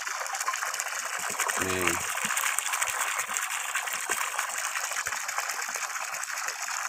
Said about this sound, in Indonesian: Alhamdulillah, airnya sudah keluar dan ini masih keruh ya